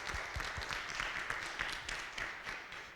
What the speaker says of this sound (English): So everybody give themselves a round of applause.